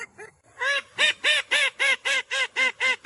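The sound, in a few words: call duck quacking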